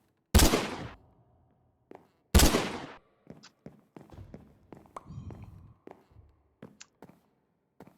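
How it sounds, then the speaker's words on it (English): Turrets firing in a Minecraft Create modpack world: two loud, sharp bursts about two seconds apart, followed by a string of lighter scattered clicks and taps, with no talking. "I forgot that there were turrets there"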